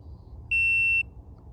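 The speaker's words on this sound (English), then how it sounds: "So it beeped." A GoPro Hero 11 camera gives a single clear, steady electronic beep of about half a second during a firmware update, standing out over a low, quiet room hum.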